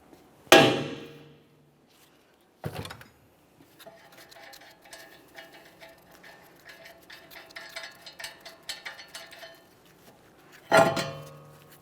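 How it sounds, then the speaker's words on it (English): Sharp metallic hammer strikes on a brake rotor stuck to the rear hub of a 2014–2018 Mazda 3: two hard clangs near the start, a run of lighter tapping and ringing, then a final loud blow. "we're using a hammer if necessary, and tap this out of place"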